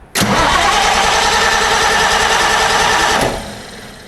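A Perkins diesel generator engine cranks and catches, running loud and close with a steady rough clatter for about three seconds before dropping away.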